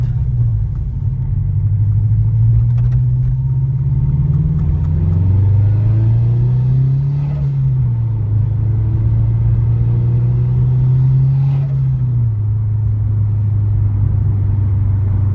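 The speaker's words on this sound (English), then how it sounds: "The blow-off sounds really clean. Starts to spool up pretty quickly as well." A turbocharged Toyota 86 / Subaru BRZ engine with a JDL UEL turbo kit and muffler delete rumbles loudly and revs up several times, each rise followed by a brief airy blow-off whoosh as the revs drop.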